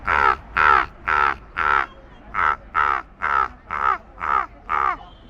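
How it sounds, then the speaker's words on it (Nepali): A crow caws ten times in a steady series, loud and close, with short gaps between the harsh calls and no other sound. "यो पनि काकै आवाज रहेको छ।"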